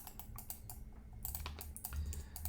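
Computer keyboard arrow keys pressed in a quick, irregular series of crisp clicks while sculpting in 3D software, close and fairly quiet with no talking.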